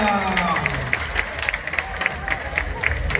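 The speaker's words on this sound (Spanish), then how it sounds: "¡Fuertes aplausos para Erika!" A festival crowd applauds the queen candidate at a patronal fiesta coronation, a dense wash of clapping with regular sharp beats under a loud voice and crowd noise, fairly close.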